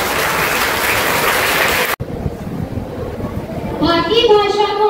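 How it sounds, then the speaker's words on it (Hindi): Loud applause from a crowd of children at a Hindi Day school event, dense clapping throughout with a brief cut partway, then continuing with children's voices and cheering rising over it. "मैं चाहता हूँ कि जोरदार तालियां बजाने के लिए"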